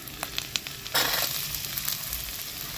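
Small diced potatoes hitting hot oil in a pan, a few soft taps followed by a sudden loud burst of sizzling that settles into a steady crackling fry, with no talking.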